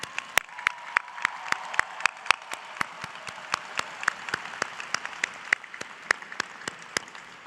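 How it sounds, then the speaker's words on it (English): Audience applause at a college commencement ceremony, a thin, fairly quiet run of distinct individual claps spaced steadily across the whole stretch, sounding like a sparse crowd heard from a distance. "Let's give a round of applause to that."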